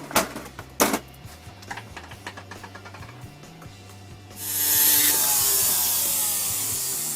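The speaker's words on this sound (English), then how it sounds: "Okay, so what I'm going to do is cut that tube off" An old worn tube on a piece of jewelry is being cut off during repair, with light scraping and ticking tool strokes giving way to a loud, steady hissing roar that starts midway and continues to the end.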